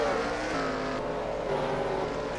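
NASCAR Cup race cars in the NR2003 racing game at a Go Bowling 400 event, with a steady, loud blend of engine drone and tonal whine filling the short stretch, no talking.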